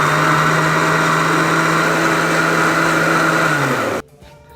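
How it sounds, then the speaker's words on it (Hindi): Electric kitchen grinder churning cream from milk to make homemade butter and ghee, a loud steady whirring motor hum that runs continuously before winding down and stopping near the end. "आप ग्राइंडर ऑन करें और इस बलाई को ग्राइंड कर लें।"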